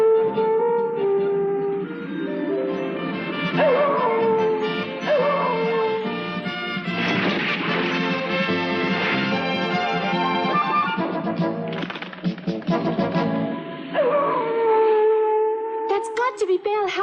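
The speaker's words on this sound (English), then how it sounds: "got to be Belle howling" Dog howling in an animated cartoon: long, wavering, rising and falling howls carry across the clip over a music and effects soundtrack, with a final sharp rising cry near the end.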